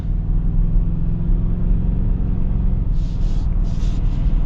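A lifted 2025 Toyota Tacoma drives along a road, heard from inside as a loud, steady low rumble of engine and road noise, with a few brief higher hissing bursts near the end.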